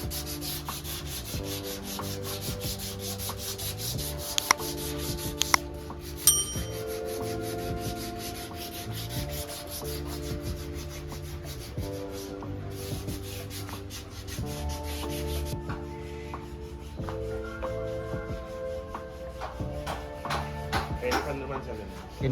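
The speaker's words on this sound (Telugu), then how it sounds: "ఇది పాలిష్ చేస్తాం." Old wooden furniture at an antique market in Veeravasaram is being rubbed and polished, a steady scraping rasp that continues under talk and musical tones, with a few sharp taps near the middle.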